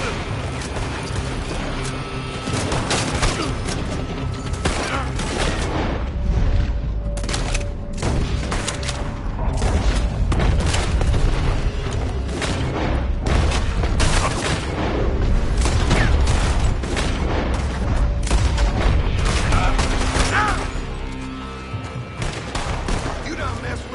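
In Red Dead Redemption 2, a heavy, continuous firefight of overlapping gunshots and booming reports goes on throughout the scene, dense and loud with hardly a pause.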